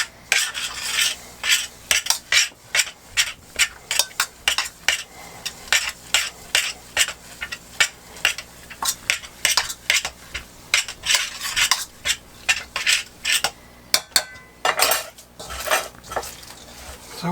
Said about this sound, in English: we're going to mix it up with a spoon first